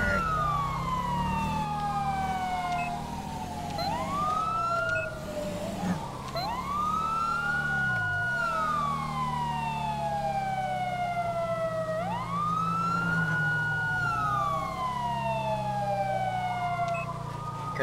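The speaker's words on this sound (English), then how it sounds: "Kind of sirens going through neighborhoods." Emergency vehicle sirens wail through a neighborhood in the video game GTA V with the LSPDFR mod, loud and continuous, their rising and falling sweeps overlapping over a low engine rumble.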